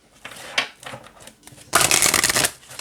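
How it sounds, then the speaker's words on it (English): A deck of oracle cards is shuffled by hand, a few soft riffling bursts followed by a louder, longer crisp flurry of flicking cards close up. "I'm going to shuffle all together"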